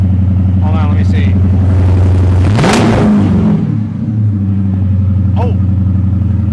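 2016 Dodge Challenger RT V8 with the exhaust removed, loud rumbling idle that surges into a sharp rev and falls back, with a person speaking briefly over the engine.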